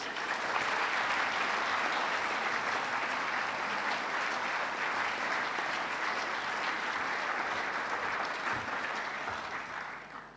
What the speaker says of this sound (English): Can we give Mr. Young another round of applause, please?